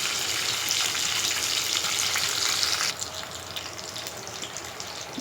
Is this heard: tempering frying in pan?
yes